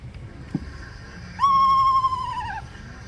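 A single owl call, long, clear and tonal, gently descending as it fades, heard alone in a quiet background.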